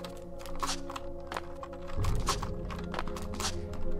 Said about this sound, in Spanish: Y siento muchísimo que se escuche el puñetero teclado.